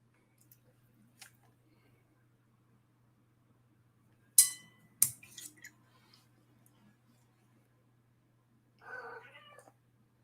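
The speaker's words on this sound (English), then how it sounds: "I don't know if you can hear my cat, but she's mad" A cat, hungry and wanting food, gives a few short meows and yowls, close but fairly quiet against a nearly silent room, with a brief rustle and a later faint call.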